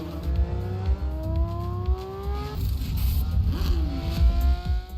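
A Porsche 911 GT3's high-revving naturally aspirated engine, rated to 9,000 rpm and 510 horsepower, loud and close with repeated rising rev sweeps and gear changes.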